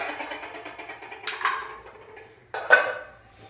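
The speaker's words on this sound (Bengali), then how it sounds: "ঢাকনাটা চাপিয়ে দিলাম" A metal lid set down on a cooking pot of water heating on a gas stove, two short clanking knocks about a second apart, fairly close and quiet, with no talking.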